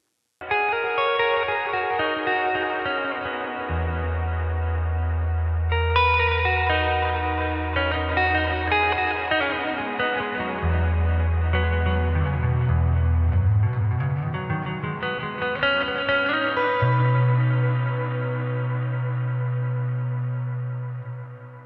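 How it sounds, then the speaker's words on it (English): An electric guitar played through a delay pedal with distortion added to the repeats. Sustained, heavily echoed chords and notes hold over a deep droning bass, with no talking. "Here's a quick clip of me playing with that distorted echo sound."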